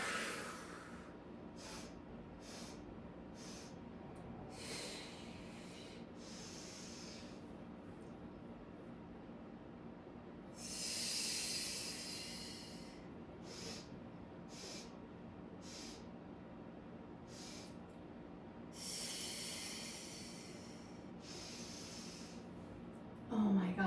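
Breathy exhales during a Pilates mat and barrel workout, several soft hissing breaths spaced across a quiet room, close to the microphone with faint background rumble.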